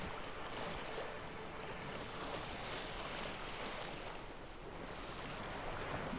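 A sailboat moves across water in The Witcher 3, with a soft steady wash of waves and wind rushing past. It sounds low and even throughout.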